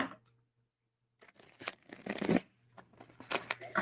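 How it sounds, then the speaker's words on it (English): Tarot cards shuffled by hand at close range, a few quick papery riffles and soft slaps in short bursts separated by pauses, quiet and alone. "Let's get a good shuffle for Cancer."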